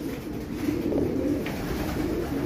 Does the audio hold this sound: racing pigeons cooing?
yes